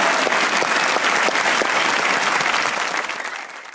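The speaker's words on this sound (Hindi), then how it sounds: "एक बार तालियां होनी चाहिए हुमायूं सईद और सबा कमर" Studio audience applause on a Pakistani comedy talk show, a dense, steady wash of many hands clapping at full strength before tapering off toward the end.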